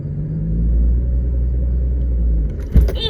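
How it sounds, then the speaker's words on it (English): A manual-transmission car's engine idling with a steady low rumble, then stalling out with an abrupt clunk and jolt near the end while a learner drives stick shift. "Oh, I just stalled it."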